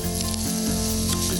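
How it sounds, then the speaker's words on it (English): A Cajun-spiced ling cod fillet sizzles in hot oil in a pan, a steady, close crackling hiss that runs without a break and with no talking. "We're gonna let that sizzle a little bit in there before we flip it over and finish it in the oven."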